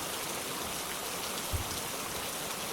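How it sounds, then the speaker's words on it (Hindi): Heavy torrential rain pours steadily outside a small mud house in a village, a dense, even hiss of water with a brief low thud partway through and no voices. "बाहर मूसलाधार बारिश का शोर था"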